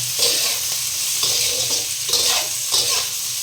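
Masur dal fries in a handi pot with a steady, fairly loud sizzle, punctuated every second or so by the scrape of a stirring spoon against the pot.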